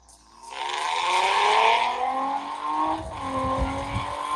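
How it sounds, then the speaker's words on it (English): A Carrera hybrid RC race car speeds up with a rising, gear-stepping electric whine that climbs in pitch, drops at a shift and climbs again, loud and close with no talk. "Now I'm going to quickly pull the trigger on my controller and you'll see the car."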